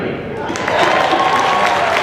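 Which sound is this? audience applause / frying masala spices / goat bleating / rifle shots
audience applause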